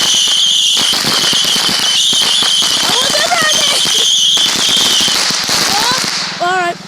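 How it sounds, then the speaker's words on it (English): New Year's fireworks and firecrackers exploding in loud, rapid crackling bursts, with whistling rockets rising and popping nearby as a continuous barrage, and voices faintly underneath. "I think we may be getting the fireworks now"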